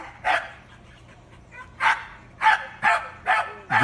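A police dog in handler training gives a series of sharp, close barks, two spaced out and then four in quicker succession, with no talk over them.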